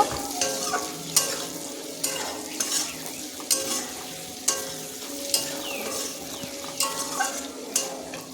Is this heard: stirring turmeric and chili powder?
yes